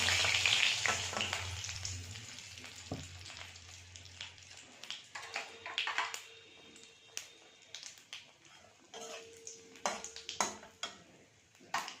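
Whole cumin, bay leaf and dried chilli sizzle in hot oil in a kadai, a faint crackling fry with scattered pops and small taps of stirring.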